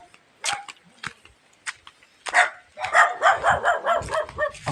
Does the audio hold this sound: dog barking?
yes